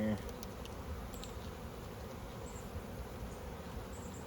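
Honey bees buzz in a dense, steady drone during a bee rescue, close and continuous over a low background rumble, with no talking.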